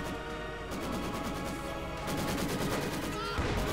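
Maxim machine gun firing in the video game Company of Heroes 2, a rapid sustained burst of repeated shots that keeps going and thickens toward the end, mixed with battle crashes.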